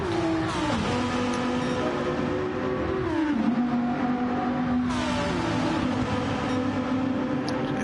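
A big front-engined, rear-drive race car with a lot of torque drones through a sim racing lap, its engine pitch climbing and dropping with each gear change in a steady, loud, continuous roar.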